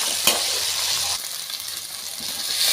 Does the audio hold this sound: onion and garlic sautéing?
yes